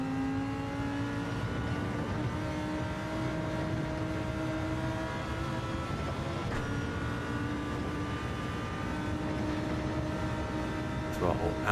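A Lamborghini Huracan GT3 in a racing video game at Lago Maggiore, engine held at full throttle with a steady high-revving drone that climbs slightly in pitch, sustained and loud throughout with brief gear-change dips.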